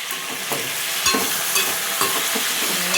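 Sesame seeds frying with capsicum curry in a pan, a steady bright sizzle with a few soft stirring scrapes and clinks throughout.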